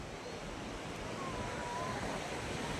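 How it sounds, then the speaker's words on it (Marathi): Sea waves at Nagaon Beach in Alibag roll in as a steady, broad wash of surf mixed with wind noise, continuous and even throughout, with no voices. "आणि आम्ही आलोय समुद्राच्या किनारी"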